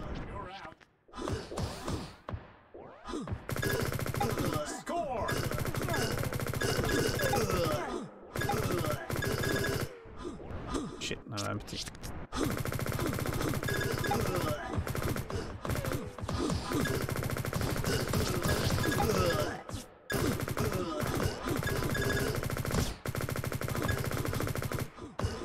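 Hitscan weapons fire in the open-source online shooter Liblast, built in Godot 4, with dense rapid bursts of gunfire and brief pauses between them, while someone talks over the shooting.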